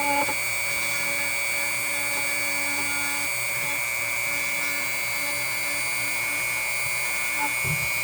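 A steady, high-pitched whine of a power drill spinning a step drill bit into a custom Pop vinyl figure, running continuously for several seconds with little change, close and alone.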